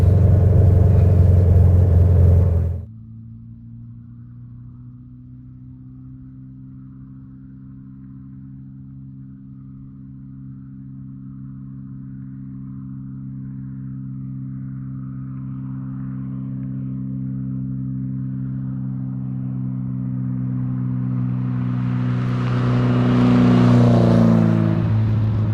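A 1967 Volkswagen Beetle on Sterling wheels rumbles along on a test drive, its air-cooled engine humming low and steady from inside the car, rising toward the end as it accelerates, after a brief louder burst at the start.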